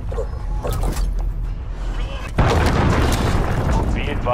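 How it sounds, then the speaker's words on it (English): A cruise missile strikes in Modern Warfare. A sudden loud, heavy blast cuts in midway and turns into a sustained roaring rumble, following quieter battlefield noise and faint voice-like radio chatter. "Enemy cruise missile incoming."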